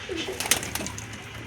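Red-headed pigeons perched in a loft cooing, a few soft low coos that are faint and brief among light background rustle and chatter.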